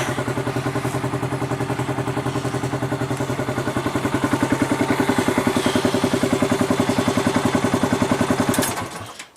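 A small Polaris engine runs steadily at a close idle with a rapid, even clattering pulse, then is shut off near the end and the sound cuts away.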